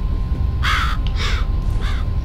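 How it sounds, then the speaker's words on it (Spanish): Crows caw in the video game F.E.A.R., three harsh calls in quick succession over a steady low rumble of ambient game noise. "Oh, putos pájaros."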